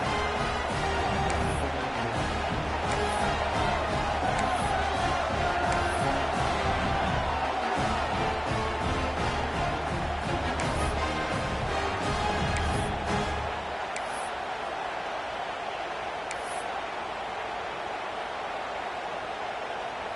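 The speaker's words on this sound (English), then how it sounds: "Listen to the crowd trying to help their defense stop the 2-point try." A stadium crowd at a football game roars continuously and at full volume during a late two-point try, then settles into a lower, quieter rumble for the final few seconds.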